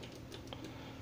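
Laptop keyboard keys tapped quickly during a test after a repair for a keyboard that had stopped working, several soft close clicks in an uneven rhythm with no talking.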